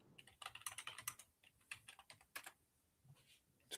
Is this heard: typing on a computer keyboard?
yes